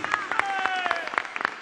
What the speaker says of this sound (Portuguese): palmas, aplauda Jesus. Bem forte para Jesus.